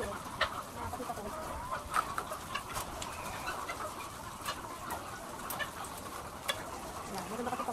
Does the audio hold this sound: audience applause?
no